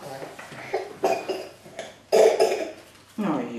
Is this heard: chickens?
no